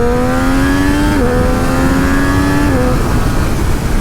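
A 2024 Triumph Street Triple 765 Moto2 Edition motorcycle revs loudly and pulls away, its engine note climbing steadily with a couple of gear-change dips, close and alone.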